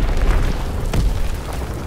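Artillery shells from a Call of Duty WWII strike land as a steady rumbling barrage of heavy booms, with one sharper blast near the middle, loud and continuous without a clear break.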